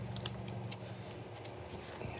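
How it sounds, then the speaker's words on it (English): Scissors snip several times at close range in a quiet room, giving a handful of short, crisp cuts spread irregularly across about two seconds. "These are my gluey scissors. I cut gluey things with them."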